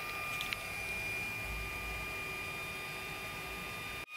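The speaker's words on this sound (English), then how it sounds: "the fan is actually quite loud, although it's not rubbing against the metal casing" Cooling fan of a TronXY X5S 3D printer running after power-up, a steady whir with a constant tonal hum, near and unchanging for several seconds before stopping abruptly at the end.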